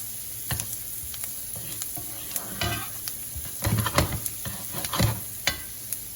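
Bacon, mushroom and onion sweat gently in a pan for a creamy fettuccine, a soft steady sizzle broken by several louder stirring scrapes and clatters, close up with no talking.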